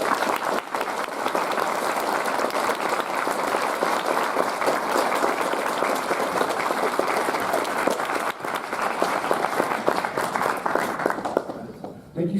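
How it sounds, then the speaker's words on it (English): A keynote audience claps after the talk, sustained dense applause at steady strength for about twelve seconds before it quickly fades out at the end. "Let's give Dr. David Novak another round of applause, please."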